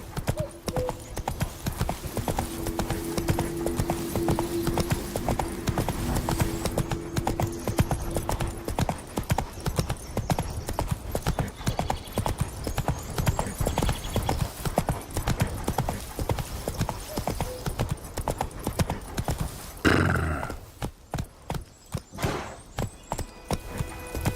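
Roach, a horse in The Witcher 3, gallops with steady rapid clip-clop hoofbeats throughout, close and loud, slowing near the end amid game ambience.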